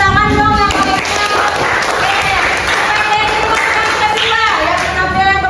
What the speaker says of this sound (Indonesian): Tepuk tangan dong yang bagus.